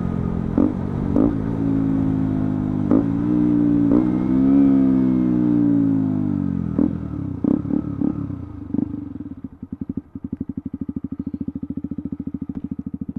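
Motorcycle engine revving up and down through several throttle blips during short shifting, fairly loud and close, ending in a rapid, uneven popping idle.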